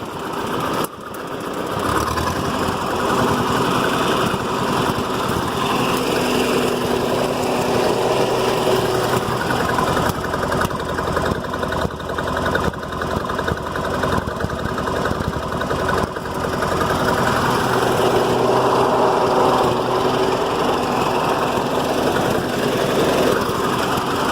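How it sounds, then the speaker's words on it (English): A tractor engine runs at a steady idle nearby, a continuous loud chugging hum that keeps going without a break. "But I don't think it's letting this tractor run just right."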